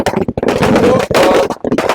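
Sharp crackling bursts of firecrackers going off in rapid clusters at a political victory celebration, loud and close, with brief pauses between volleys and crowd noise mixed in.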